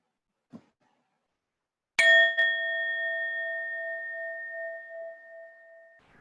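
A meditation bell is struck once at the end of a session and rings clear and sustained, its bright metallic tone slowly fading over several seconds after a faint tap beforehand.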